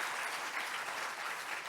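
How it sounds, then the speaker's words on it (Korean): Church congregation applauding steadily as a pastor's wife is introduced, a dense, continuous wash of clapping from many hands filling the room with no break. "박수 한번 해주시지요"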